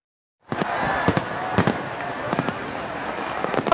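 Fireworks burst over Nguyen Hue flower street in Ho Chi Minh City to welcome Lunar New Year's Eve 2020: a continuous crackling roar punctuated by repeated sharp, loud bangs after a moment of silence, with a faint crowd beneath.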